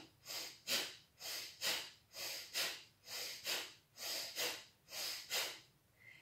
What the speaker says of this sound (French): On va amener le nombril vers la colonne vertébrale et on va expulser l'air par les narines.